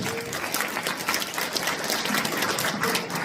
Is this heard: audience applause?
yes